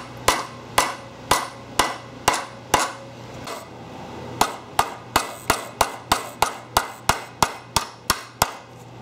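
A hammer tapping a 1 1/16-inch socket to press a connecting rod onto its bearing during a compressor valve plate kit install: sharp metallic taps, a few spaced strikes, then a fast even run of about a dozen more.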